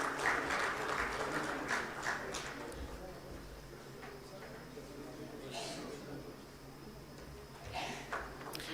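Conference audience applause at an international concrete innovations conference, faint scattered clapping that swells briefly and fades, under a speaker's voice over a PA.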